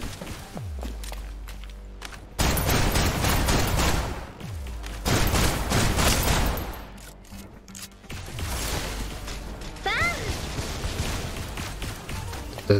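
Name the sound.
gunfire in the Snowbreak Containment Zone video game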